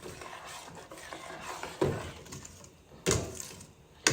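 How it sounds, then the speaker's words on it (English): A whisk stirs four cups of sugar into blueberry jam in a pot: soft, continuous scraping and swishing, broken by three louder clanks against the pot's side. "I'm going to stir this in real good"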